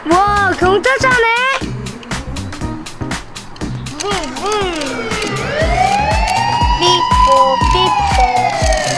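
A toy police car siren wailing and warbling loudly up close, alternating pitch sweeps with chirpy electronic tones, while children's voices talk over it.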